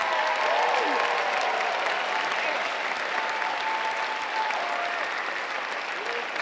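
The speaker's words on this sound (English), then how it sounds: "Would you join me in one more round of applause for all of our great staff members?" An audience at the Chandler Unified School District Night of Recognition gives a long, sustained round of applause for staff members, a dense, even wash of clapping with faint voices calling out beneath it.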